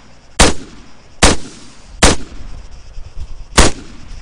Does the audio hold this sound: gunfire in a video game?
yes